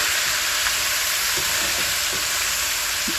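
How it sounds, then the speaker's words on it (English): Steady loud sizzling of leftover marinade gravy for salmon biryani frying in a pan, a continuous crackling hiss with faint stirring sounds. "Just frying this gravy a little bit."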